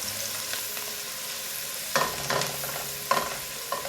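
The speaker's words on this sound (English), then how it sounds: "Let's give that a stir." Jamaican curried shrimp sizzles in a pan while a spoon stirs it. Several scraping strokes rise out of a steady frying hiss, close and clear, with no voices.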